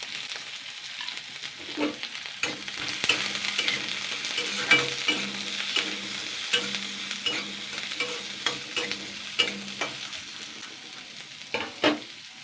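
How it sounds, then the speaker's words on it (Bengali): Chopped onion and garlic sizzle and fry steadily in a hot pan, with frequent stirring scrapes and clinks over the continuous crackle; close and fairly loud, no voices. "পেঁয়াজ আর রসুনটা আগে ভেজে নেবো"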